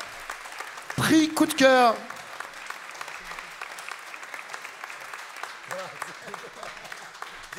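Audience at a 2022 music showcase talent contest breaks into a brief, loud burst of applause lasting about a second, with a voice speaking over it. Quieter room murmur follows.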